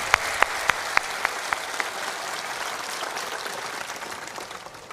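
At a Hindu spiritual discourse gathering, a few loud, evenly spaced claps ring out, then give way to a dense wash of audience applause that slowly fades.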